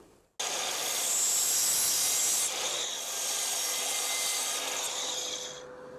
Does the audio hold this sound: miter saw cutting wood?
yes